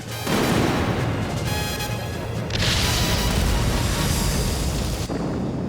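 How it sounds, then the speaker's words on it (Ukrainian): Heavy cannon fire from an anime airship's main guns booms out in loud successive blasts, each followed by a roaring, crackling wash of explosion noise. "Головним гарматам вогонь."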